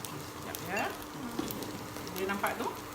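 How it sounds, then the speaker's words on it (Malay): Kuey teow noodles fry in a pan with a steady crackling sizzle and stirring scrapes, while a voice talks faintly over the cooking. "Kita goreng dia sampai dia garing."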